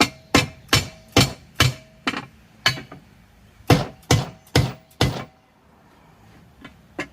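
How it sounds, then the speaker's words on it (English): A run of sharp, heavy dead blow hammer strikes lands in quick bursts, roughly ten strikes with short pauses, then a couple of fainter taps at the end, while fitting parts during an LS engine swap into a third-generation Camaro. "Go get us a little dead blow hammer."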